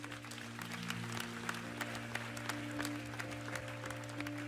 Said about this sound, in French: On peut acclamer le Seigneur pour elle.